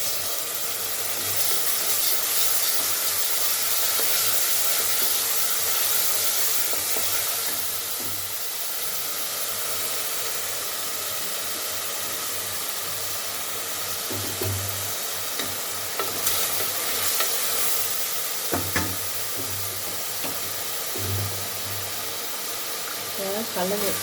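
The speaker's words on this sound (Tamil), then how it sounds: "இதில் இஞ்சி பூண்டு பேஸ்ட்டை ஊற்றி பச்சை வாசம் போகிற வரையும் வதக்கி விடுவோம்." Ginger garlic paste is sautéed in a pan for kuska rice, a continuous loud sizzling hiss with occasional stirring scrapes throughout.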